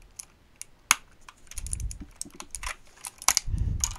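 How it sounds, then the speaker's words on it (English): Keycaps are pulled off a 60% mechanical keyboard with blue switches, giving scattered sharp plastic clicks and snaps close by, with soft handling thumps in between. "Let me take off a keycap."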